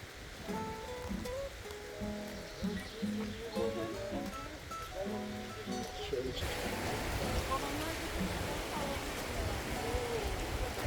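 A waterfall in the Kaz Mountains of Turkey gives a constant soft rushing hiss that swells louder in the second half, with bird calls and faint background sounds layered over the first part.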